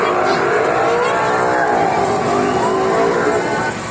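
Maruti cars and motorcycles race around the vertical wooden wall of a well of death show. Their engines make a loud, continuous roar that fills the whole stretch.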